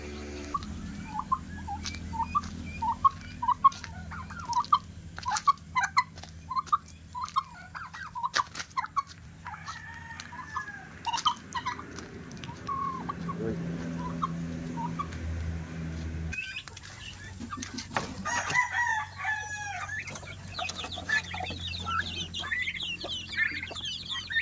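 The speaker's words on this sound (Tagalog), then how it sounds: "May mga pabo na naman. May pabo din sa ibang kulungan." Turkeys and chickens gobbling and clucking in a farmyard, with a rapid run of clucks early on and scattered bird calls over a steady background hum.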